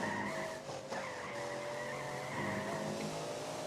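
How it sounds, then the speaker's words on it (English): Race car engine in iRacing Arcade video game, a steady sustained engine drone with tonal whine and some tire squeal or skidding, continuous and fairly loud throughout. "this car doesn't sound too bad actually compared to all the other ones"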